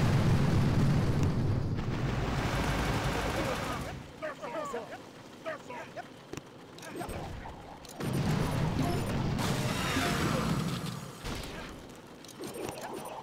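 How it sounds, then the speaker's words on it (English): Rockets explode in the mobile strategy game Boom Beach: loud, rumbling blasts roll out in two heavy waves separated by a quieter stretch of scattered clicks and smaller bangs. "Right, it's just some rockets."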